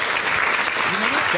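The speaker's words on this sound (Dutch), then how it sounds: "Geef hem een warm applaus." A brief burst of warm audience applause at a Dutch panel event, dense steady clapping from a hall crowd.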